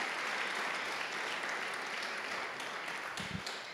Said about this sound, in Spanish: Le da un aplauso muy grande usted al Señor